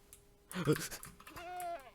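A goat bleats in Minecraft, a short wavering cry in the middle, close and fairly clear, followed by a person speaking over faint background sound.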